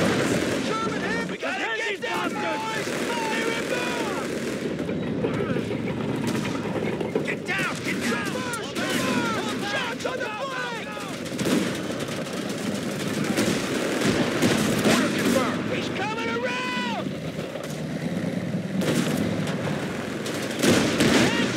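Anti-tank gun and heavy machine gun fire in a Company of Heroes 3 Italy campaign battle: sustained dense gunfire and bursts rumble throughout beneath shouted squad chatter, with sharper cracks standing out at intervals.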